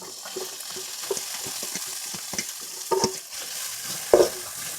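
Chopped walnut meat sautés in extra virgin olive oil in a preheated pan, a steady soft sizzle broken by scattered clinks and scrapes of stirring, with louder bursts near the end.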